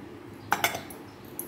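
Fenugreek leaves and coriander being mixed in a bowl, giving a few brief utensil clinks against the bowl in quick succession, moderately close over a quiet room.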